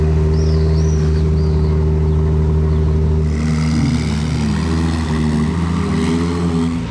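A red Ferrari with a Novitec tune revs its engine in Monaco, loud and close. A strong, steady tone holds through most of it, and it swells with rising pitch near the end, without any talking.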